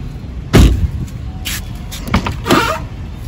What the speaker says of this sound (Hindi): और अभी लेफ्ट वाला दरवाज़ा आपको खोल के दिखाते हैं।